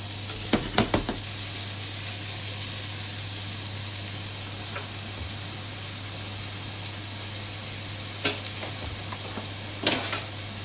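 Shrimp searing in a hot, ungreased saucepan, browning on the bottom, for mafaldine pasta, a faint steady sizzle under a constant low hum, broken by a few sharp utensil knocks near the start and toward the end.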